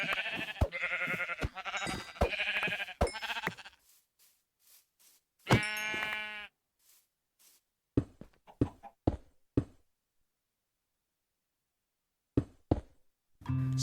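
Sheep in Minecraft bleating in short bursts, a longer bleat near the start followed by a series of brief, clipped calls separated by silent gaps.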